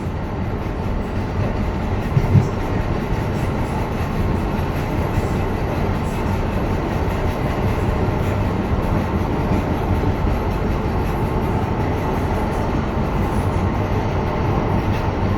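Riding aboard an MBTA Green Line light-rail train between Eliot and Brookline Hills, the car crosses the Glen Avenue Bridge with a loud, steady rolling rumble and hum, a brief sharp clunk near the start.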